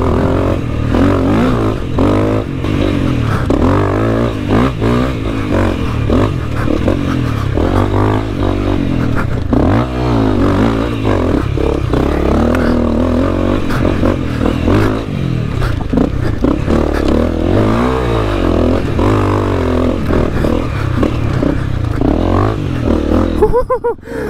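A Honda CRF250L dirt bike rides over a rock slab, its engine droning steadily up close with revving swells and clattering over stone, a person talking briefly.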